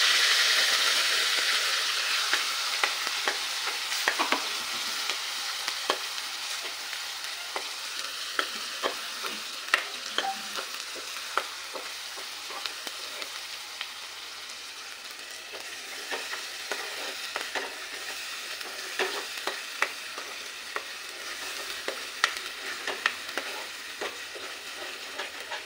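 Ground masala paste for a cashew curry sautés in a pan with a steady, bright sizzle, punctuated by frequent scraping clicks of a spoon stirring it, continuous and close for the whole stretch with no voices.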